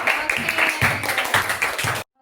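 Classroom group applauding together, a brief burst of dense clapping from students that cuts off abruptly after about two seconds.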